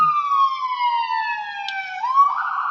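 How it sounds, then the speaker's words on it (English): A wailing emergency siren sounds loud and continuous, sliding slowly downward in a long tone before switching abruptly to a new cycle, with no one speaking. "And here comes the ambulance"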